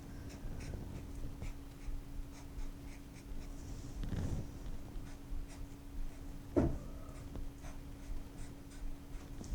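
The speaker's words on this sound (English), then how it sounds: "so I'll draw some stars too" A pencil or marker scratches and taps lightly on paper while drawing stars, with short quiet strokes and brief pauses, close and faint, with no talking.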